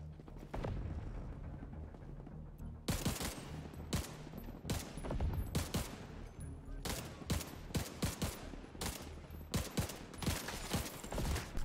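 Rapid bursts of automatic gunfire from The Division 2, dense volleys and single shots cracking one after another over an action game's background, loud and close throughout.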